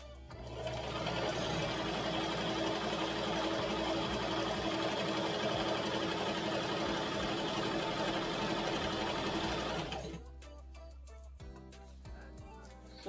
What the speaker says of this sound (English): So I am gonna go ahead and just sew this up.